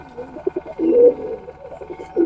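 Fancy pigeons coo close by in low, throaty repeated calls, a few soft rolling phrases with brief pauses between them.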